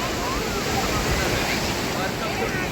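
Sea waves roll steadily onto Tarkarli Beach on a crowded shoreline, a loud continuous rush of surf mixed with wind buffeting the microphone.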